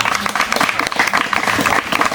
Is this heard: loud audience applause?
yes